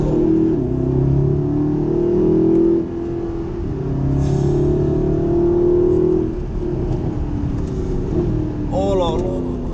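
A Mercedes SLS AMG in Sport Plus mode pulls away in its first acceleration, its engine note rising and swelling loudly through the run with a throaty rumble, while a voice exclaims over it.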